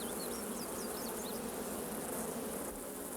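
Bees at a bee yard hum in a dense, steady swarm drone that stays loud and even throughout, with a few faint high bird chirps above it.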